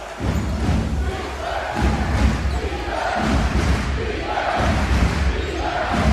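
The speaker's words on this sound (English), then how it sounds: "crowd here urging on their team" Basketball crowd at the 2010 EuroChallenge final between Krasnye Krylia and BG Gottingen, a loud sustained roar of fans urging on their team with rhythmic swells, filling the arena throughout.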